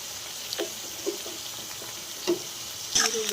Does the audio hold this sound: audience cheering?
no